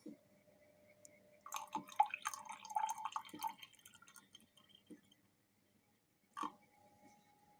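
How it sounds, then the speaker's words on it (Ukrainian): Iron sulfate solution is poured into a glass vessel during gold refining, giving faint trickling and dripping liquid sounds with a few glassy clinks, close and quiet. "Так, заливаємо залізний купорос."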